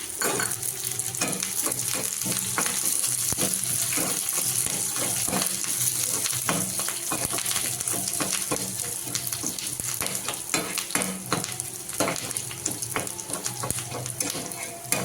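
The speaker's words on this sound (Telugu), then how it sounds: "తిరగట్లు వేగాయి కదా, కరివేపాకు వేసుకున్నాము." Curry leaves fry in hot tempering oil for pachi pulusu, a continuous crackling sizzle broken by frequent utensil taps and stirring clicks.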